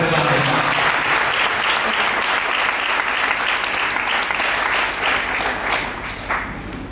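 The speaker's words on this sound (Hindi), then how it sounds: "ताली बजाकर" A congregation claps together during an evening church sermon, a loud, dense burst of applause filling the whole stretch and fading slightly toward the end.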